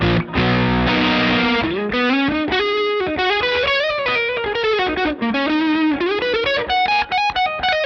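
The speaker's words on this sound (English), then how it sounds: "And I have a P90 in the middle here." A distorted electric guitar on its middle P90 pickup, run through a drive pedal, plays loud and continuous, moving from chunky chords into wavering sustained lead lines with bends that slide up and down.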